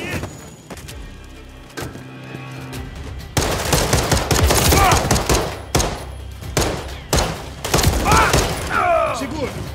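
Gunfire in the Call of Duty: Modern Warfare 3 game erupts as loud, rapid automatic bursts with heavy thuds, following a quieter stretch where voices shout in Portuguese.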